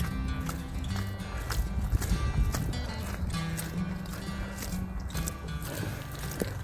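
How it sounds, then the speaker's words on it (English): Horses heard along the North Downs Way between Merstham and Oxted, with hooves thudding and clip-clopping on wet, slippery ground, moderately close, amid outdoor rustle and movement. "Oh, there's horses again."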